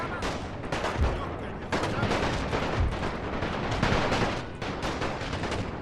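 Gunfire and artillery from a World War I strategy game set in Romania: dense, rapid crackling shots and heavy booming blasts that overlap continuously, with a voice talking faintly underneath.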